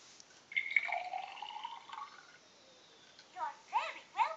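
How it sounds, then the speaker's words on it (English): Liquid is poured into a cup with a soft, rising gurgle lasting a couple of seconds, followed by a few short, high voice-like chirps from a child nearby. "let's pour some more"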